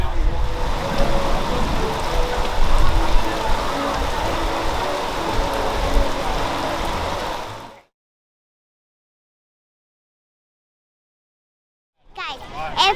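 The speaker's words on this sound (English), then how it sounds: "it's raining, like storming outside" Heavy rainstorm at Epcot, loud steady hiss of rain pouring for about eight seconds before cutting off abruptly, followed by silence and then a brief return of noise.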